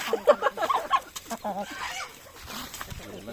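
Short bursts of chicken and rooster clucking near the start, mixed with people talking in Tamil and general activity during feeding at a Palani Murugan temple.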